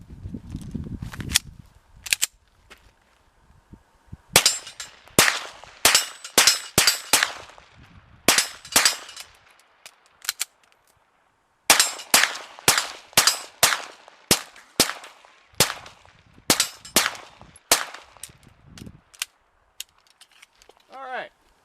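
Suppressed 9mm pistol with a vinyl-wrapped suppressor firing 115 grain FMJ rounds, crisp snapping shots in quick strings and irregular bursts with short pauses between them, loud and close.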